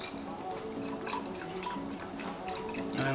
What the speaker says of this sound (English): then we'll just chuck in some of our skim milk on top